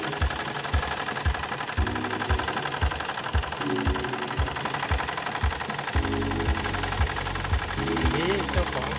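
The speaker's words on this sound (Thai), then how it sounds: "อันนี้นะครับเครื่องยนต์นะครับก็ เดินเบาได้ไม่มีปัญหานะครับ" An Isuzu TFR pickup truck diesel engine idles steadily nearby, a low rhythmic knocking chug repeating evenly throughout with a faint mechanical rattle on top.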